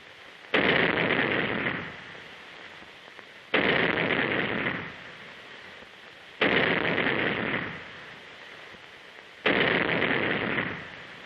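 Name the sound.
3-inch naval gun firing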